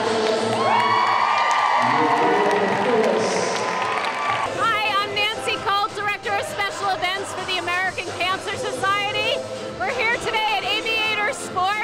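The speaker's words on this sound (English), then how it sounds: "What an incredible crowd we have here today." Big crowd at a large indoor Zumba charity class of over 400 people in Brooklyn cheering and whooping, loud at first, then overlapped by a voice talking over ongoing crowd noise and music.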